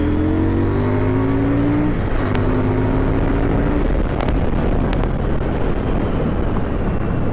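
A KTM Duke 790 motorcycle fitted with an Akrapovic exhaust revs up through rising gears on the quick shifter, with a quick cut and climb near two and four seconds, then roars on at steady high engine speed, loud and close throughout.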